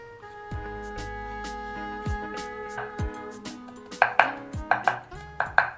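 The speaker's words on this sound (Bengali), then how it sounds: "আর বাকি রসুনগুলো আমি মিহি কুচি করে কেটে নেব" A knife finely chops peeled garlic cloves on a board, first a few slow separate cuts, then a quicker run of sharp, close knocks, with no talking.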